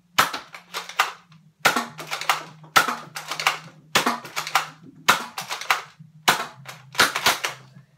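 A Nerf Elite 2.0 Commander blaster fires foam darts, its pump handle pulled back and released before each trigger pull, giving about eight sharp, close mechanical clacks with short whooshing bursts in a steady rhythm, a low hum running beneath.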